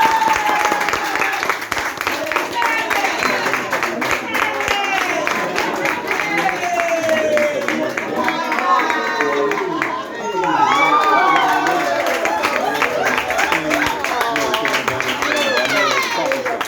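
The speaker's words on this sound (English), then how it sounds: "If y'all would give another clap for my wife to join me" A crowd at a poetry night in Accra claps and cheers loudly and continuously, with whoops and shouted voices rising over the applause and a brief dip near the middle.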